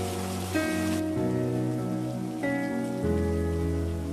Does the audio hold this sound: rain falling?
yes